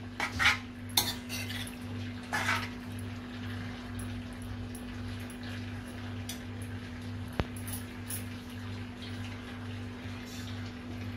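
A metal spoon scrapes and clinks against a pan while potato and cowpea dry curry is stirred and mixed, light irregular taps over a steady low hum in a home kitchen.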